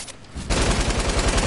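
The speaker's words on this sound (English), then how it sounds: "They're shooting." Rapid automatic gunfire from a multiplayer video game, a dense burst of sustained shots after a brief quieter lead-in, loud and continuous throughout.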